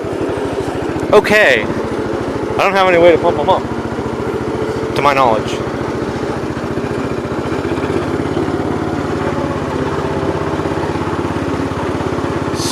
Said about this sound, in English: Snowblower. Engaged.